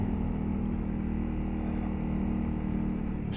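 A 2022 Honda CRF300L off-road motorcycle cruising in third gear, its engine a steady, close, droning hum with a constant low tone and no revving changes, accompanied by continuous wind rush.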